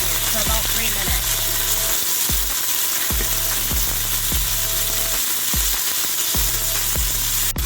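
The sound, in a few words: peppers and onions sautéing in a pot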